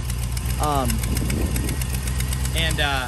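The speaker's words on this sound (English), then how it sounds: "Obviously there's a big, pretty decent exhaust manifold gasket leak there" A Chevrolet Silverado engine idles steadily and close up, with an uneven misfire and the ticking puff of an exhaust manifold gasket leak. Two short bits of a voice come through over the engine.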